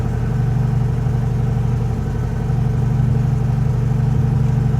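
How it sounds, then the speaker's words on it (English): A 1966 VW Type 3 engine with a new single-port dual 34 carburetor setup idles steadily while warming up, a close, loud, even rhythmic thrum that stays constant throughout without any talking. "let the engine warm up"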